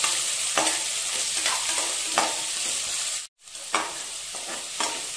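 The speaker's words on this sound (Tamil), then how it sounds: "ஒரு பெரிய வெங்காயம் நீளவாக்குல வெட்டி வச்சுருக்கேன், இதையும் ஆட் பண்ணிக்கிறேன். நல்லா வந்து வணக்கிக்கலாம்." Long-sliced large onion frying in a pan for mutton biryani, a loud close sizzle with rhythmic stirring scrapes, briefly cut off for a moment before the frying resumes, no talking.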